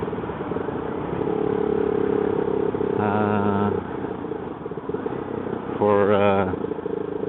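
Motorcycle riding along a road near Hole, Norway, a steady close engine drone with wind rush and a couple of brief louder passing vehicle sounds, while someone talks over it.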